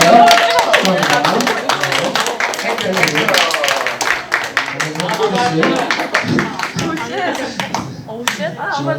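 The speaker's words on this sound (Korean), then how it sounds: "우리 선물 줄 때 박수로 축하해 주세요." A youth worship audience at a church claps rhythmically in sharp, close, brisk claps while students receive gifts, with people talking and cheering over the applause.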